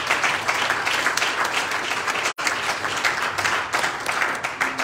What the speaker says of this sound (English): Would you clap the hands of the Lord?